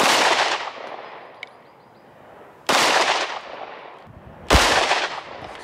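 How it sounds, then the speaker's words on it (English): A Glock 19 fires 9mm rounds at body armor: three loud, close pistol shots spread a couple of seconds apart, each with a long ringing echo that dies away. "So now we're gonna move up to a 9mm from a Glock 19."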